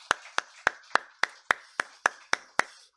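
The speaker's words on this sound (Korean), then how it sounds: "우리 박수로 하나님께 영광 올려드립니다." Church congregation clapping during a Sunday worship service, about ten evenly spaced sharp claps in unison, close and crisp against silence.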